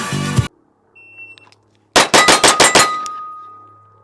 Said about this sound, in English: First shot low again, and then I bring it up.